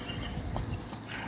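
A young colt's hooves clop a few times at a slow walking pace, moderately close and faint against a low outdoor hum.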